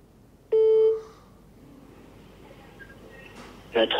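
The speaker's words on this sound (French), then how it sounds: "Merci de laisser un message après le bip" Voicemail beep before a message: one clear, loud electronic tone lasting about half a second, followed by quiet line noise and a brief burst of sound at the end.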